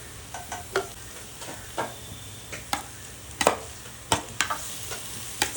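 Fish sautéed with turmeric and chili powder in a pan for a traditional Tamil sura puttu, with repeated scraping stir strokes over a steady low sizzle, close and moderately loud, no talking.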